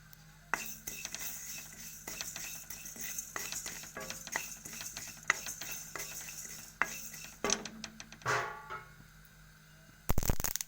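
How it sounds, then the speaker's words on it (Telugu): Sesame and coriander seeds roasting in a pan, with a metal utensil scraping and clinking against the pan in irregular strokes, soft rustling between them and a sharp clatter near the end. "ధనియాలు వేయించుకున్నాక నువ్వులు వేయించుకుందాం."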